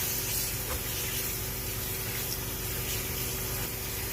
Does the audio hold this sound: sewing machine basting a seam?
no